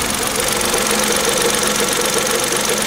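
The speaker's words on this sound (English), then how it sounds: "a little bit of a bearing rubbing noise, but that's always been there" A Kia Picanto engine idles steadily up close, with a continuous mechanical bearing-rubbing whir running through the rumble.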